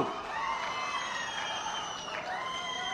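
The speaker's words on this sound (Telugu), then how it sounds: "గట్టిగా చప్పట్లు కొట్టి అభినందించండి ఇలాంటి మంచి పని చేసినప్పుడు" An audience at an outdoor political gathering breaks into sustained applause and cheering, a dense crowd wash with whoops that stays steady throughout.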